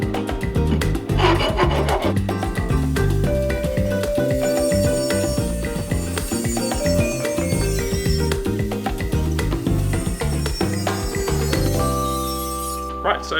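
Hand filing along the sides of cut metal brackets for a van solar installation, with repeated rasping strokes in a close, busy rhythm and some tonal ringing of metal, continuing steadily throughout.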